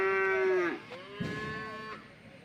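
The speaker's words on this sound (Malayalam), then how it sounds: "വലിയ പോത്തും ആ ഭാഗത്ത് നിൽപ്പുണ്ട്" A buffalo at a livestock market gives a deep drawn-out low, a loud close moo that slides down in pitch, followed by a second, softer bellow.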